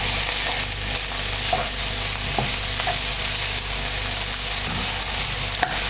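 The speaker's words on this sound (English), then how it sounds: "Mix it well in." Corned beef hash mixture with bacon stirred in a hot pan, a steady sizzle of frying food under scraping, shuffling spoon strokes with a few sharp clicks against the pan, close and continuous.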